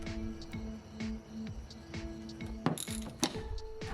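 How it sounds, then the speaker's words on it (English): A ratchet tightens the 19mm bolts of spring compressors on a Subaru rear shock spring, giving rapid, regular close clicking, with a couple of louder metallic clanks near the end. "tighten the 19mm bolts, switching sides every once in a while until the spring is fairly compressed"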